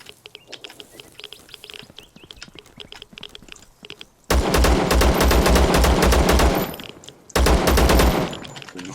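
Rapid automatic gunfire from a weapon in the video game Zero Sievert, with grenade use nearby: quiet pattering background, then two loud sustained bursts of fast shots, the first about two seconds long and the second shorter.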